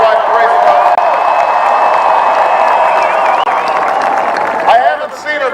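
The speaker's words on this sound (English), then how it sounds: "please give a big round of applause to your own Senator Bill Nelson" A rally crowd at a Kissimmee, Florida campaign event claps and cheers for Senator Bill Nelson, loud and continuous, thinning out as a voice rises over it at the close.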